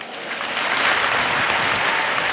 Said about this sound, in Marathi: आपल्यासाठी एकदा हात उंच करा आणि जोरजोरात टाळ्या वाजवा.